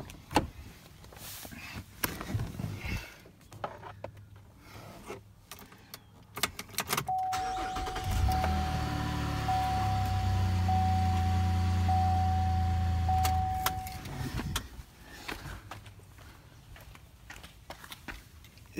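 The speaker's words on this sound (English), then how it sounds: "It sounds horrible as that tire is turning and it hits this piece right here." On a 2015-22 Chevy Colorado pickup, the front tire rubs against a body piece while the steering wheel is turned. A continuous grinding, groaning scrape lasts several seconds over a quiet idling background with no talk.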